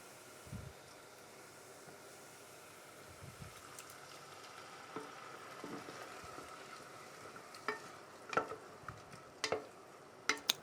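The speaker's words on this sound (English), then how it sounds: "Give it all a good stirring." Minestrone soup with tomatoes and sofrito is stirred in a pot, a low steady simmering sizzle with soft spoon scrapes and a few sharper taps against the pot toward the end, close and quiet.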